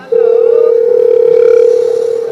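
A phone call's ringing tone plays while waiting for someone to answer, a loud steady electronic tone held alone without any talking.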